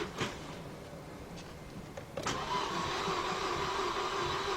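A 2014 Volkswagen Beetle with a 2.0 engine is heard in a steady, whirring drone from a car that cranks without starting; the tone steps up slightly midway and holds, with no voices over it.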